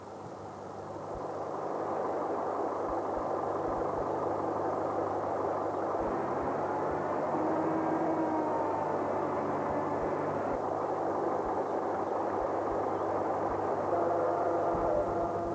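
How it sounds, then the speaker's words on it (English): A tractor engine drones steadily at moderate distance on a beach at North Landing, Flamborough, pushing a crab fishing boat slowly into the water, a constant low rumble with no talk. "A tractor is used for pushing the boat slowly into the water"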